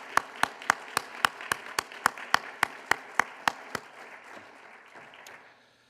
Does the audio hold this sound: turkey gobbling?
no